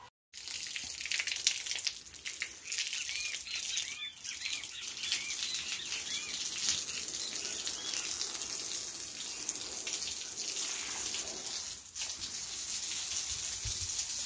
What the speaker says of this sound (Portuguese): Vou jogar uma água aqui para você ver a cor dessa água.